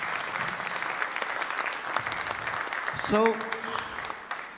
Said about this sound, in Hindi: ये जो आप लोग ऐसे ऐसे ताली बजा रहे हैं